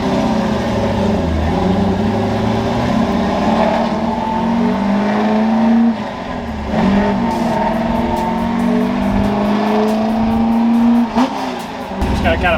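A Ford F100 truck on slick tires drives along, its engine a steady, loud drone with gear shifts around six and eleven seconds, continuous and close throughout.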